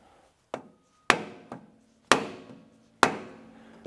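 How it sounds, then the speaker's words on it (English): A hammer strikes a wood block to tap a seal into a Tilmor 520 tractor, five or six sharp, separate knocks with short ringing decays, close and clear without talk. "Either use a piece of wood with a hammer or like a rubber mallet with a hammer"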